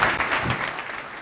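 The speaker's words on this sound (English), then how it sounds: "Let's give him a round of applause" A short burst of audience clapping at a tech event, welcoming a speaker to the stage, with steady mid-level claps fading slightly toward the end.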